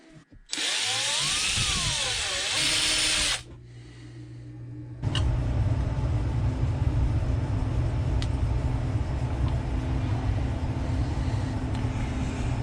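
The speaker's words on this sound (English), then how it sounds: "I'm going to try to drill that now, not screw it up." A power drill whines at high pitch for a few seconds, winding up and down, then a lower, steadier grinding drone continues as it bites into a wooden fishing lure carved from a stick.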